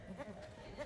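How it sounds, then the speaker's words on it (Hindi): A black goat bleats faintly among other goats, soft wavering calls under a low background murmur, with a voice faintly present. "ये माशाल्लाह से ब्लैक बकरी है, बहुत प्यारी है।"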